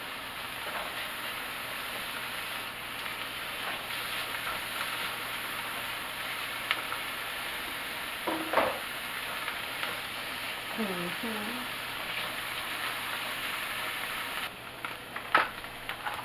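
Leftover mushrooms sizzle steadily in a hot frying pan, a continuous close hiss that runs throughout, with a few faint clinks and shifts partway through.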